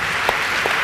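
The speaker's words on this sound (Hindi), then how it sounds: "जोरदार ताली बजाकर धन्यवाद करेंगे" Congregation applause during a church worship gathering, a brief burst of loud, dense clapping from a large crowd, sustained evenly with no speech.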